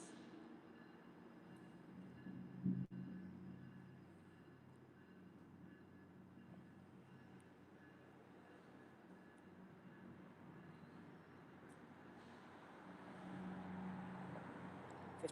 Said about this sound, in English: Oh, I hear a train above me.